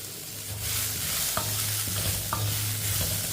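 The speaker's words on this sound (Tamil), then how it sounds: "இதையும் லைட்டாக வதக்கிக்கிறோம்." Beetroot and vegetables stir-frying in a pan for a soup, with a steady sizzle and a few scraping stirs of a spatula against the pan, close and clear with no talk.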